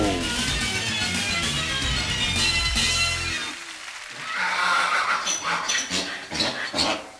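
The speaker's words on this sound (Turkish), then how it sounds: "Bu bir eşek sesidir." A donkey's loud braying call rises and falls in harsh, heaving bursts, then breaks into shorter ragged honks near the end.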